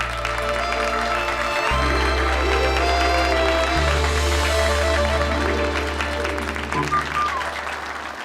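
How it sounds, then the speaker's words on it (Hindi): Steady, loud applause from a live audience at a TV serial scene celebrating a singing performance deal, filling the whole clip with dense clapping over background music. "तालियां।"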